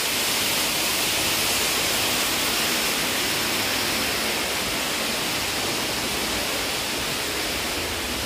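Broad, steady rush of flowing water from an underground river inside a dark cave, continuous and fairly loud with no pauses, filling the whole stretch without talk.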